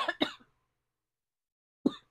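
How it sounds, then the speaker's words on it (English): Two sharp coughs close together, then a pause and a single cough after a stretch of silence, loud and close. "excuse me, I'm going to cough."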